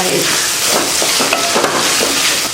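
Chopped bottle gourd and tomatoes sauté in a pan with a steady, dense sizzle and a few soft stirring scrapes, close and fairly loud throughout.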